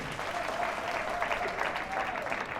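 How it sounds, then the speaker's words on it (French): Audience applauding steadily for a contestant at a fashion competition show, a continuous mid-level clatter of clapping hands that holds without a break for a few seconds, with a faint tonal line running underneath. "Ah, on applaudit bien fort."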